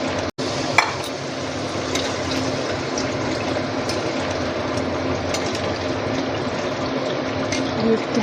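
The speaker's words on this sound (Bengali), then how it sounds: "জল দিয়ে দিই।" Water pours into a cooking pot in a continuous, fairly loud rushing flow that runs the whole time after a brief clatter at the start.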